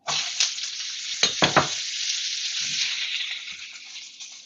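Celery and peppers sizzle steadily in hot oil for kung pao chicken, a close, continuous hiss broken by a few louder stirring scrapes and clatters early on, with no one talking.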